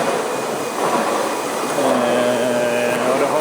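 A beer-processing machine in a brewery runs with a loud, steady mechanical whir and hiss, while a tonal whine rises partway through.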